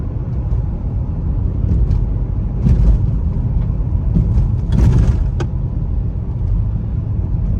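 A car driving on a rough village road in Siberia makes a constant loud, low rumble from inside the cabin. Occasional knocks and rattles from bumps break through, and no one speaks.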